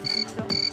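Crickets chirp in two short, steady, high-pitched bursts, fairly close and clear with no talking, lasting under a second.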